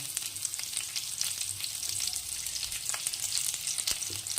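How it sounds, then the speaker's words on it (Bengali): Chopped onion and cumin seeds frying in hot oil in a wok, a dense continuous sizzle close by with light scraping stirs throughout and no talking. "এবার একটু সামান্য বেশি পরিমাণেই কুচানো পেঁয়াজ দিয়ে দেব"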